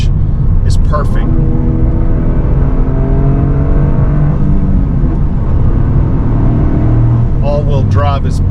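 A 2024 Toyota GR Corolla hot hatch in track mode, with all-wheel drive and a manual clutch, drones loudly under acceleration with rising engine tones, a brief drop at a gear change, and a voice talking throughout.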